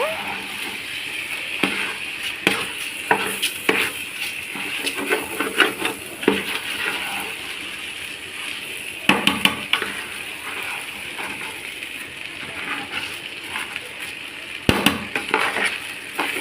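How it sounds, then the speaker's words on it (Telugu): Coconut milk rice with garam masala spices is stirred in a pot, producing irregular soft scrapes and light metallic clinks of a spoon against the pot over a faint background hiss. "ఇప్పుడు కలుపుతున్నాను"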